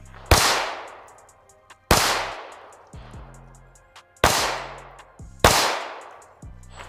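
Four loud, sharp pistol shots from an ATLAS Gunworks Erebus 2011-pattern handgun, spaced roughly every one and a half seconds, each with a brief ringing decay and faint metallic clatter between reports.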